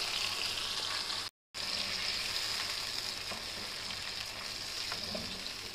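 Spice masala hits potatoes frying in a pan, a steady close sizzle with light stirring scrapes, briefly cut by a short dropout near the start, no voices.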